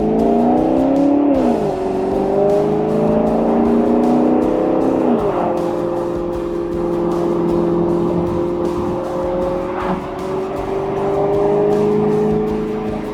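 The 454 hp V8 of a 2015 Maserati GranTurismo MC Convertible revs and pulls through rising harmonic sweeps. It dips briefly between gear changes, then settles into a loud, sustained engine drone close by.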